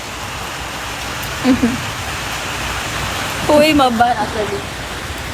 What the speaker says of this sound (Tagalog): Kaya maligo na may ulan.